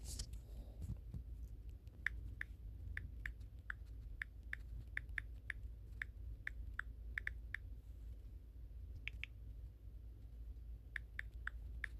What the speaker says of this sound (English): let me just type something in then